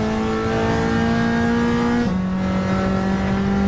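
Race car in a racing video game on the Nations Deep Forest track, engine droning at steady high revs with one upshift partway through, loud and continuous with no voices.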